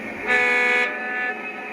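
Horn on a Lionel Elgin, Joliet & Eastern SD38 model train: one loud, bright toot of about half a second, then a softer tail of the same tone, close up with no talking.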